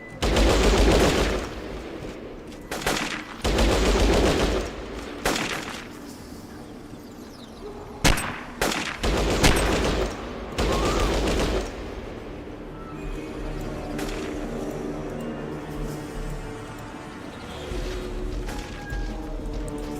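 Gunfire rattles through a Fallout Tactics battle in repeated loud bursts of automatic fire separated by short pauses, with a few sharp single shots and a quieter stretch of game sounds at the end.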